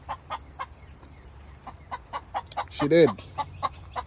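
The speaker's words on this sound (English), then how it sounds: "think that's the sound that I just laid." A backyard hen clucks in short repeated bursts after laying an egg, with one louder squawking call midway, close by as a person speaks briefly.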